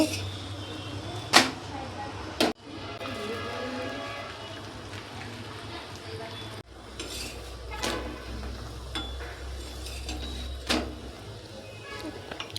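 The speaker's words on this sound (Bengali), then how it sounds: "দেখুন এটা আমার ভাজা হয়ে গেছে এইভাবে আমি সবকটা ভেজে নেব" Egg rolls frying in hot oil, a continuous sizzle broken by several sharp utensil clinks and knocks against the pan, with faint speech in places.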